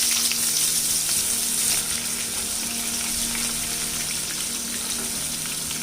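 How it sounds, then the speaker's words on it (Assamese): Chopped onions with black cumin frying in a pan until golden brown, a steady close hiss of oil with faint crackling throughout, no one speaking. "পিঁয়াজখিনিক আমি গোল্ডেন ব্ৰাউন হোৱালৈকে আমি ফ্ৰাই কৰিম"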